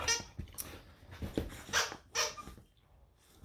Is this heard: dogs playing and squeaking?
yes